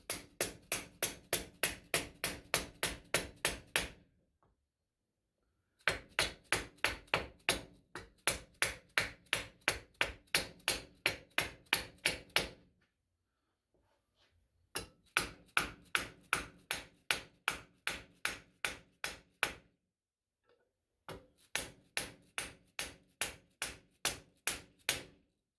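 Steady hammering on metal in rapid, even strikes through a piece of wood, arranged in four long bursts separated by short pauses, loud and close.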